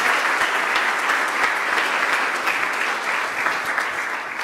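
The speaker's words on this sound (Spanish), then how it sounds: "Denle un aplauso a Jesús si puede." A church congregation applauds during a Sunday service, with dense, continuous clapping that stays loud and steady, easing slightly toward the end.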